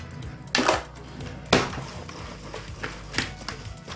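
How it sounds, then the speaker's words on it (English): Utensil clinks against a bowl while eggs are stirred, a few sharp metallic knocks about a second apart, close and fairly loud, with soft scraping between them. "Now I'm just going to stir it all together."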